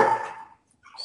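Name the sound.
dog barking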